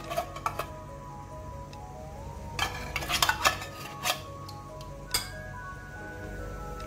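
Cream is poured into a pan of pudding mixture and stirred, making a run of light metallic clinks and scrapes with a cluster of sharper taps near the middle, all fairly soft and without talk.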